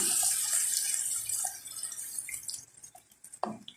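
Water from a tap or jug, about two glasses, runs into a cooking pot of mutton and taro root on the stove, a steady splashing pour that thins into a few drips near the end, with no voices.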